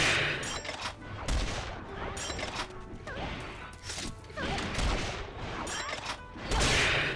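Video game gunfire crackles in bursts of sharp shots and clattering impacts across the whole stretch, loud and dense, with faint voices in the background.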